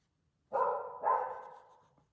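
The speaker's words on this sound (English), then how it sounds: "Her bark just reverberates through the whole house." A dog barks twice indoors, two quick, loud barks in a row whose echo carries through a house, then quiet.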